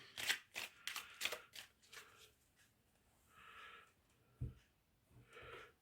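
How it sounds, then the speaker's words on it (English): A deck of tarot cards is shuffled by hand at close range, with quick papery riffles and slaps coming in a rapid cluster, then a few softer card swishes and a dull tap after a pause. "I'll just shuffle the cards for you on camera to get your energy"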